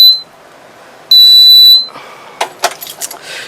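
A home fire alarm system sounds during a test, giving a high piercing electronic tone in two bursts separated by a pause, followed by scattered clicks and rattling handling noises, with no one speaking.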